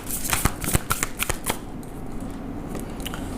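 Tarot cards being shuffled and drawn by hand, a quick run of close, crisp riffling flicks and snaps followed by softer sliding and handling of the deck.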